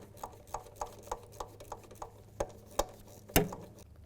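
A Subaru Outback ignition coil bolt being tightened by hand, a steady series of small sharp clicks from a ratchet, close and quiet, ending with a louder snap.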